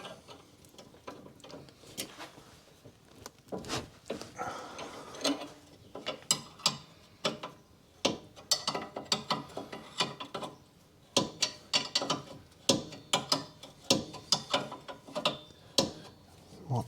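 A ratchet wrench clicking in bursts of rapid ticks with pauses between strokes, close and clear, while working on a 2014 Mazda CX-5 2.2 diesel anti-roll bar drop link.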